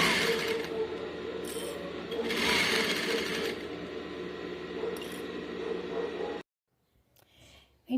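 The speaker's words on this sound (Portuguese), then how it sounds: "aí já passei a costura na máquina para juntar" A sewing machine stitches fabric for a vaccination card holder, a steady close mechanical whir with brief speed swells that stops abruptly, followed by near silence and a faint handling sound.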